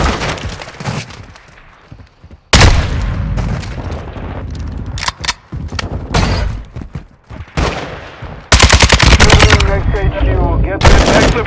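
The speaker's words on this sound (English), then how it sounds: "I'm taking enemy fire!" Enemy gunfire in the video game Call of Duty: Modern Warfare II, with loud, close bursts of automatic fire and sharp impacts coming in uneven volleys separated by brief lulls, with game voices in between.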